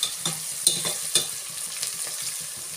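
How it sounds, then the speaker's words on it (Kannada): Onions fry in oil until brown, a steady sizzle under repeated scraping stirs and a few sharp clinks of the spoon against the pan, close and with no talking. "ಸ್ವಲ್ಪ ಈರುಳ್ಳಿ ಕಂದು ಬಣ್ಣ ಬರಲಿ"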